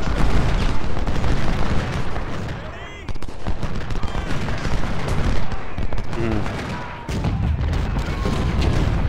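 Cannon and gunfire in the Civil War strategy game Ultimate General at the Battle of Chickamauga, dense rolling booms and crackling volleys that run continuously and loudly across the whole stretch, with a brief dip partway through.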